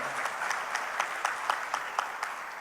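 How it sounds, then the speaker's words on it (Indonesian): Audience applause at a business association's national meeting, a steady crowd clapping with regular sharp peaks, moderately loud and continuous throughout without talk. "Kita berikan aplaus untuk UMKM."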